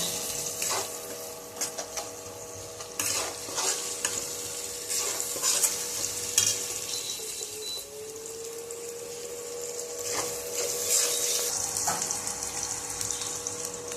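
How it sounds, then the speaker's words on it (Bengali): Ingredients for mixed fried rice stir-fried in a pan: a steady soft sizzle with repeated scraping and stirring strokes of a spatula, fairly quiet and close, no talk. "হালকা করে নেড়ে চেড়ে ভেজে নেব, খুব ভাজবো না।"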